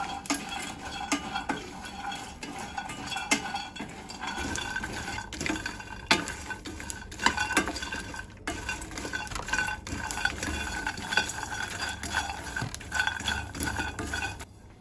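Dry cocoa beans rattle and scrape in a pan as a spoon stirs them steadily while roasting, with faint sizzling and repeated clinks of metal.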